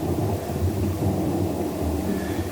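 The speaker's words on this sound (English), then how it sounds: "I'm not seeing a whole lot of lightning, but I'm hearing the thunder." A deep, continuous rumble rolls on at steady loudness, like distant thunder growling without a sharp crack.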